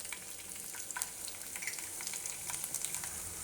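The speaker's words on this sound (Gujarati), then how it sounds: "તેલ આપણું ગરમ થઈ ગયું છે, એમાં આપણે પહેલાં રાઈ નાખીશું, અને લસણની કળીઓ નાખીશું" Mustard seeds and garlic cloves fry in hot oil for a Gunda Keri methi shaak, giving a steady close sizzle with scattered sharp pops and crackles throughout, no voices.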